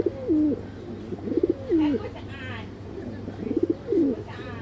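Racing pigeons in a loft, including a Belgian cock bird, coo in repeated low, rolling phrases, several calls over a few seconds against a steady background hum.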